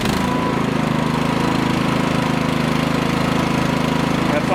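NiftyLift boom lift engine running just after starting, with the choke still on, heard as a loud, close, steady idle with a rapid rhythmic chug throughout.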